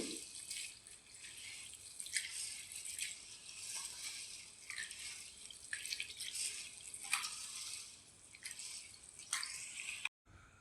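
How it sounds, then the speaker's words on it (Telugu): Pulses are washed in water, with a steady wet swishing, splashing and dripping close by, fairly quiet, with no voices. "దీంట్లో డస్ట్ ఏం లేకుండా రెండుసార్లు నీట్గా వాష్ చేసుకోవాలండి"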